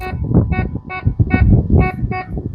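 A GoGonova Professional metal detector with a 10-inch coil gives short electronic beeps in a quick, even rhythm, six pulses over a low rumbling background.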